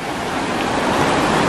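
A sulfur-laden mountain river at Kawah Ratu on Gunung Salak rushes in a steady, broadband wash of flowing water, loud and close with no voices.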